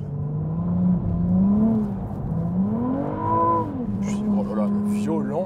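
Ferrari 296 GTB with its V6 engine revving hard at full throttle, the pitch rising and falling in strong sweeps as it pulls through the gears, loud and close, with people talking over it near the end.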